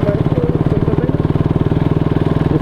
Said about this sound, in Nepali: यता चाहिँ लोकल राइडरहरू यस्तो पानी गरेर बाइक चलाइरहेछन् है